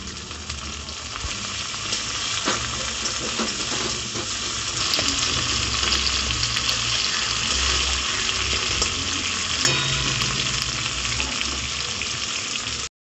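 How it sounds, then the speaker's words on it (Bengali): Chopped tomato sizzles in a frying pan of raw jackfruit and potato curry, a loud, steady, close hiss of frying that runs unbroken throughout. "এবার আমি দিয়ে দেবো টমেটো কুচি"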